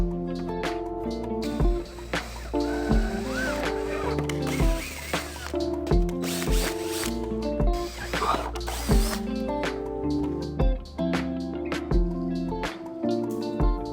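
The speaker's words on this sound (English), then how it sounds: "I'm going to put one of the bolts in just to make sure that the hole that you've pre-drilled is going to work" A ratchet tightening a bolt into a pre-drilled hole on a motorcycle chop kit install, with fast, continuous, fairly loud clicking that pauses briefly between runs of strokes.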